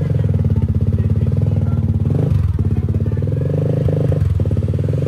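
A brand-new Kymco Xciting VS 400 scooter with an Akrapovic carbon exhaust idles close by with a loud, throaty, rapid-pulsing exhaust burble, dipping briefly in pitch a couple of times.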